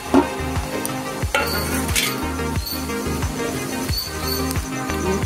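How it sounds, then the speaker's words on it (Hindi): Capsicum fries in a pan with ginger garlic paste, a steady sizzle broken by regular scraping strokes of a spoon stirring against the pan, close and fairly loud. "इसको भूनना है, ये थोड़ा भुना जाए शिमला मिर्च"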